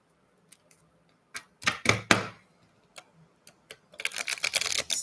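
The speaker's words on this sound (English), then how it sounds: "I'm just shuffling." Tarot cards being shuffled during a live reading: sparse soft taps and clicks, then a couple of sharp riffling bursts, and finally a longer rapid flutter of cards, close and clear with no talking.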